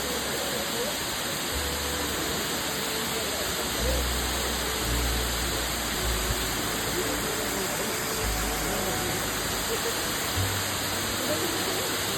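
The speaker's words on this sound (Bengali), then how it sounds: "এটা হচ্ছে ঝাড়ি ওয়াটারফলস, স্বর্গীয় মতো লাগছে, অনেক উঁচু থেকে জল পড়ছে" Jhari Falls near Chikmagalur, water dropping from a great height, gives a steady, dense hiss and roar that holds for the whole stretch, with occasional low rumbling bumps and a voice speaking over it.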